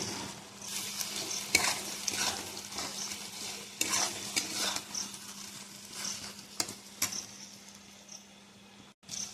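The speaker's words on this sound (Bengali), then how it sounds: "পটলগুলো দেওয়ার পরে একটুখানি নাড়াচাড়া করে নেব।" Pointed gourd (potol) being stirred in a hot pan with salt, giving a steady sizzle and frying crackle broken by repeated scraping strokes of a spoon, close and without talk.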